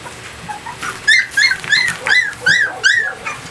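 Several high-pitched puppy whimpers and yips in quick succession, close by and fairly loud, with soft background noise between them.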